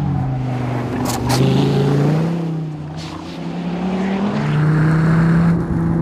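A race car on a track brakes hard into the corkscrew, engine note dropping through downshifts with rising and falling revs, loud and close from onboard, no talk.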